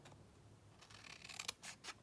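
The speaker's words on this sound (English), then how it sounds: "just take your scissors and follow" Scissors snip through paper along a cut line while a handmade peekaboo Valentine's Day card is being made, giving a few quick, close, crisp cuts in a quiet room.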